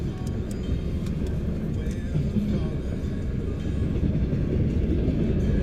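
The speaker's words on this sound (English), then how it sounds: "There's a new boxcar there, just went by." A freight train with boxcars rolls steadily past close by, a continuous loud rumble with faint rail clatter throughout.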